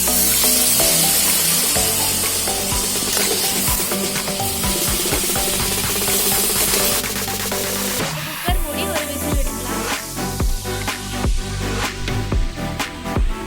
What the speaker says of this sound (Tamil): ஒரு விசில் வந்துருச்சு.